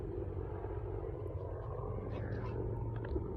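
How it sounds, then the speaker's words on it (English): A helicopter passes overhead during an outdoor walk, a steady low rumbling drone that holds at even loudness for the whole stretch, with no voices over it. "That was a helicopter."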